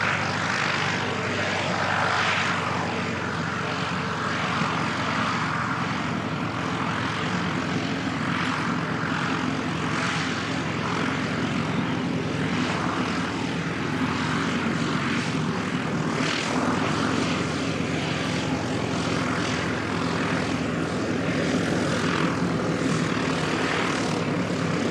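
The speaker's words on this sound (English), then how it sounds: "Buttery smooth arrival, beautiful, look at that, awesome aircraft." A propeller airliner landing at Christchurch Airport in strong gusty wind, its engine drone and wind noise holding loud and continuous throughout.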